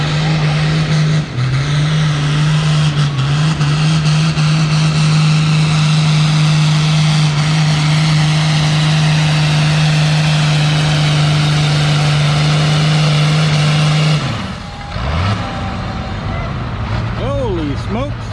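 A big D21 tractor pulling a sled at a vintage tractor pull, the engine roaring in a loud sustained drone for about fourteen seconds before the throttle drops and the revs fall away, with an announcer talking over it.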